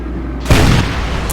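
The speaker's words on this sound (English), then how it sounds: "it seems he is shooting high explosives" A tank firing a high explosive shell in the World of Tanks video game, a single loud heavy boom bursting in over a constant rumbling engine drone, with a faint high ping afterward.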